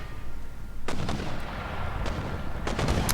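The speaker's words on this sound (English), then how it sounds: "mortars. They are now opening up." Mortar artillery fire in the Empire: Total War video game, a few booming blasts spread across a few seconds over a steady rumbling battlefield background, no talking.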